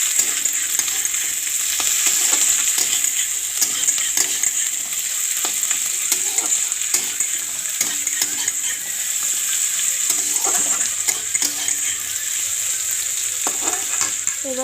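Dried red chilies and carrot sizzle steadily in hot oil with onion, stirred with a spatula that scrapes and taps the pan now and then; a continuous, close frying hiss with no voices.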